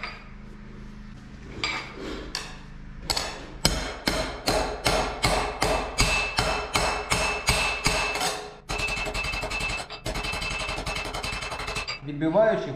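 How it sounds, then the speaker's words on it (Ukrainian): A hammer strikes the edge of a metal armor plate to bend the rim, ringing metallic blows in a fast steady series that runs into a dense continuous clatter, close and loud. "Беремо молоток,"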